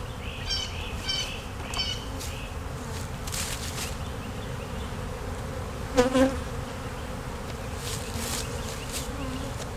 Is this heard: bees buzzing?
yes